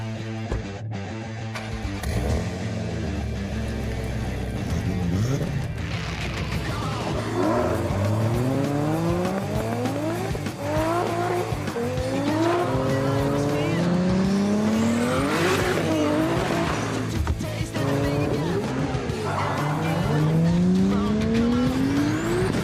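Drift cars battle on a racing circuit at an international drift cup, engines revving hard in rising and falling sweeps while tires squeal continuously, loud and close throughout, with faint crowd or commentary sound in the background.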